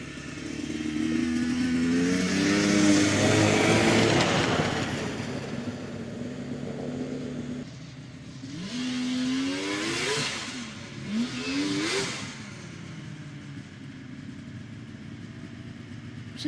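Vintage snowmobile engine at a fall shakedown ride revs hard and rises in pitch in several surging bursts, a loud, close, strained whine over a steady rumble, with the clutch slipping and burning.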